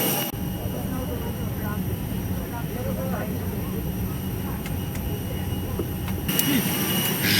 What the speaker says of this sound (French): Je suis dans l'avion, direction Port-Blair.